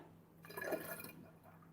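Liquid yeast is poured into a batch of homebrewed breakfast ale, giving a brief splashing, trickling pour that starts suddenly, peaks in the middle and fades, fairly quiet and with no talking.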